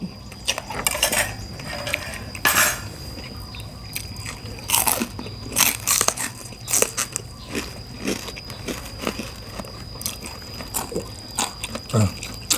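Crunchy chewing up close on spicy squid salad, repeated crisp bites and crunches in an irregular rhythm, with no talking.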